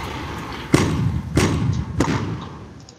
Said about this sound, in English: Weak artillery strike.